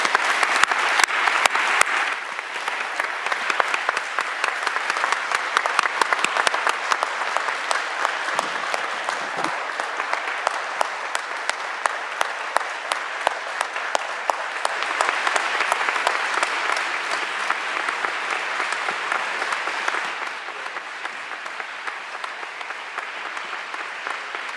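An audience at a COP26 climate session applauds in farewell, a dense, sustained burst of clapping that runs for the whole stretch, settling slightly after the first couple of seconds and continuing steadily without talk.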